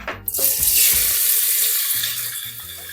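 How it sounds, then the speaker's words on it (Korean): Pork hits hot cooking oil in a preheated pot over medium heat for kimchi stew, bursting into a loud, rushing sizzle that settles into a steady hiss with faint clinks. "노릇해질 때까지 중불에서 볶아줍니다."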